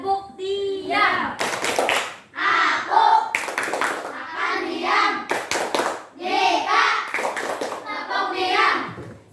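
Children in an Indonesian fourth-grade classroom do the tepuk diam clap, several loud bursts of group clapping in rhythmic sets, alternating with children's chanting voices between the claps.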